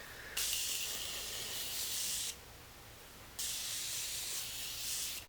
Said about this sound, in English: So I'm going to set my face with my setting spray.